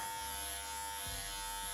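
Philips MG7715 multi grooming kit trimmer running with a steady close electric buzz, constant hum throughout with a slight shift near the end.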